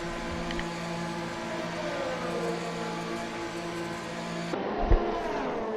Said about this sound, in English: But here he comes into the pits now for Hamilton.